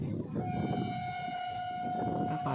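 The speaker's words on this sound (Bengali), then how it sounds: "পাশ থেকে একটা ট্রেনও চলে এসছে।" A passing train rolls alongside with a steady rumble, and a long horn tone sounds through most of it, moderately distant.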